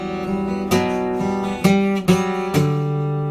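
Guitar plays the arpeggio run from Todd Burge's song I'm a Shark, individual plucked notes rising and falling in a steady flowing pattern, close and solo with a few sharper accented strums.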